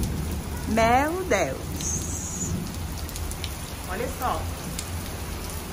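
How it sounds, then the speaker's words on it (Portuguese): Heavy rain pours down in a city during a storm, a dense steady hiss of drops on surfaces, while a person exclaims in Portuguese over the downpour. "olha a chuva que tá aqui nessa cidade"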